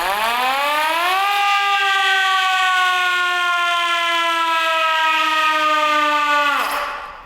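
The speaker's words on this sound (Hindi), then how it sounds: "ये जी इमरजेंसी सायरन है जो बजता था" An emergency siren winds up, holds a loud steady wail for several seconds, then drops off sharply at the end, with no talk over it.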